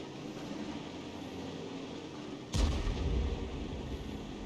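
A tank cannon in a video game fires a single round with a sudden loud boom that rolls into a low rumbling tail, following a few quiet seconds of steady engine drone.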